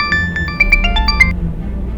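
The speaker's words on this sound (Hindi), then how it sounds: "घर से बार बार फोन आ रहा है।" A phone rings at home with a bright electronic melody of quick repeated tones over a low background hum, with no talking.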